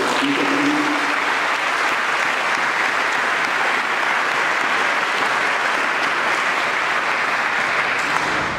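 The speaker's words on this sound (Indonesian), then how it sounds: "Kita berikan tepuk tangan" An audience at a polytechnic event claps in a dense, sustained round of applause, loud and even from start to finish, with a brief voice at the very start.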